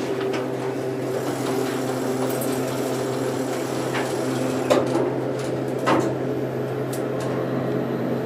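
A hotel elevator at Homewood Suites Bentonville-Rogers hums low and steady throughout the ride, with a couple of faint clicks and thumps partway through and no talking.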